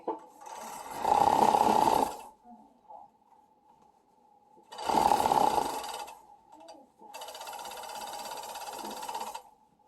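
A sewing machine stitches a neck hole closed on a garment with flutter sleeves, running in three loud, steady whirring bursts separated by quiet pauses with faint ticking.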